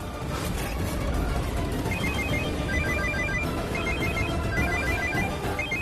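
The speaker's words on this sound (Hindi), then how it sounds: "सरपत भैया को फोन लगाती हूँ।" Telephone ringtone sounding during an outgoing call, a repeating electronic ring pattern heard over steady background noise, continuous and moderately loud.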